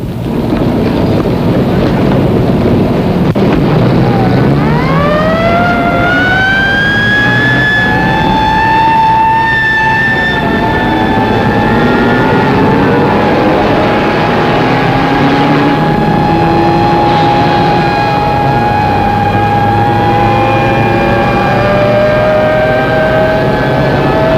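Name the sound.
four-engine aircraft with number 4 engine on fire, emergency landing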